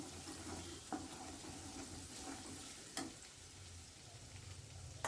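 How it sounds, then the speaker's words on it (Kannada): Spices sizzle in hot oil for a raw mango pickle, a soft, steady frying hiss with a few faint scraping clicks of stirring, with no voices. "ಚೆಂದಾಗಿ ಎಣ್ಣೆ ಒಳಗೆ ಇದನ್ನೆಲ್ಲ ಸ್ವಲ್ಪ ಫ್ರೈ ಮಾಡ್ಕೋಬೇಕು"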